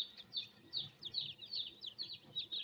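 Newly hatched chicks peep in rapid, repeated high chirps, steady and fairly close, with a low murmur of background noise underneath.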